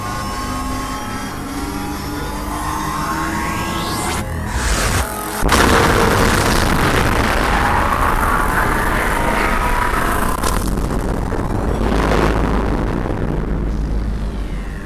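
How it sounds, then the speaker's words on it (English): Reactor ignition and power lasers firing at a Roblox facility: a loud sustained roar with deep booms, rising tonal sweeps early, then a sudden heavy surge near the middle that stays dense and rumbling to the end, with no talk. "Reactor ignition in process. Firing power lasers."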